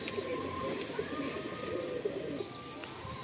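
Pigeons, including black owl-faced breeding birds kept for sale in a loft, coo softly in a steady low murmur that carries across the short stretch without any talk over it.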